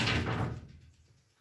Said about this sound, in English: A fucking cat just opened the door.